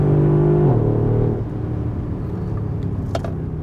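A 2016 Mercedes-AMG GLE 63S Coupe (C292) heard from inside, its engine note loud and steady under acceleration, then dropping in pitch as the gearbox shifts up, settling into a lower, rumbling drone with faint clicks.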